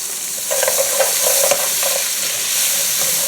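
Whole onion and garlic fry in a pan still coated with browned beef and seasoning, giving a loud continuous hiss and crackle with light stirring clatter, no voices.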